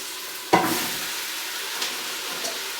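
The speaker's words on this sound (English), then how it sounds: "Now I'm going to add the vegetables real quick." Vegetables with mushrooms, onions and garlic hitting a hot pan, a sharp burst of sizzle that settles into a steady frying hiss, with a couple of faint stirring scrapes.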